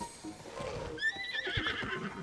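A horse in the video game Tears of the Kingdom gives one loud, close whinny that rises and wavers for over a second, with game sounds rumbling beneath it.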